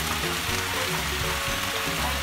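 Water spinach (kangkong) stir-fried in a wok, a dense continuous loud sizzle close up, with faint tonal hum underneath and no talk.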